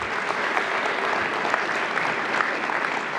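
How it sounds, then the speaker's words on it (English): Steady round of applause from the audience at a school board of education meeting in Marysville, Ohio, a dense even patter of many hands clapping throughout, fairly close and loud, with no talking over it. "So let's give them a round of applause."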